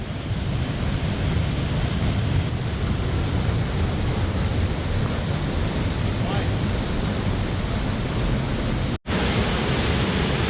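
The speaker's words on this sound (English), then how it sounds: "Nice waterfall." A waterfall in an Adirondack canyon, a dense continuous roar of rushing water, loud and close, steady throughout with one brief dropout near the end.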